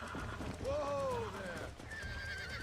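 Horse whinnies and neighs with clip-clop hooves in the Red Dead Redemption video game, a rising and falling neigh near the start and a thinner one later, heard under continuous background game noise.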